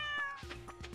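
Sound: cat meowing in Stardew Valley video game

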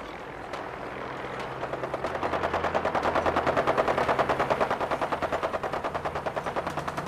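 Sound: gunfire in Fallout 4 video game

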